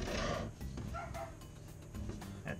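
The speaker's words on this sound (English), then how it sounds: "That dog won't shut the hell up." A dog barks and yips repeatedly in the background of a kitchen during a faucet and sink drain repair, with short bursts spread across the moment, fairly distant and mixed with low room noise.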